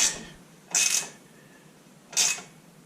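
Ratchet tightening rock guard bolts on a 2024 Polaris Ranger XP 1000, three short, bright bursts of clicking spaced apart, close and clear with no talk.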